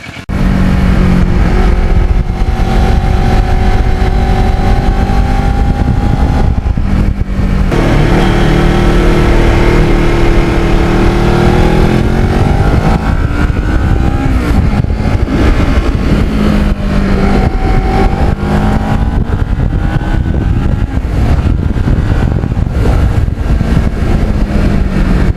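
A Kawasaki Ninja motorcycle with lowered forks on a ride, its engine droning loudly and continuously with rising and falling revs and heavy wind rush throughout.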